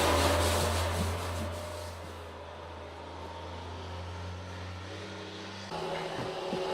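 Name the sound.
traffic noise through an open window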